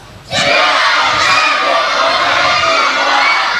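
A group of children shouts together loudly in a sustained burst, a dense wall of young voices that starts abruptly and holds steady.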